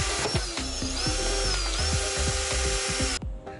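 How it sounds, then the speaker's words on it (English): A power drill bores a starter hole for a PVC Orbeez cannon nozzle, its motor whirring in short, repeated revving bursts up close before stopping abruptly. "I don't have a drill bit big enough, but we're at least going to get a hole started"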